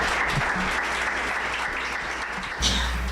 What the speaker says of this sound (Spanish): rogamos a la respetable audiencia que lo recibamos con un aplauso para otorgarle el uso de la voz.